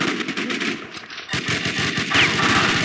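Rapid automatic gunfire from the video game War Inc Battlezone, dense and continuous bursts of shots that run almost without pause, loud and close, with no speech.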